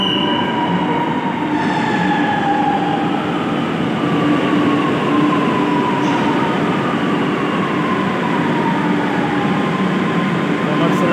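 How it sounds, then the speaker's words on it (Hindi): A metro train pulls into a station platform in Varanasi, a loud steady rumble with high wheel squeals and a faint rhythmic clatter throughout, no talk heard. "ट्रेन आती हुई देखे प्लेटफॉर्म पे,"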